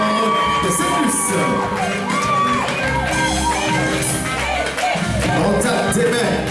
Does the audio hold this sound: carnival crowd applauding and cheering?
yes